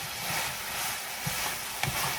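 Chopped onions frying in a pan for carne guisada, a steady soft sizzle running throughout with a couple of faint utensil knocks, close and fairly quiet.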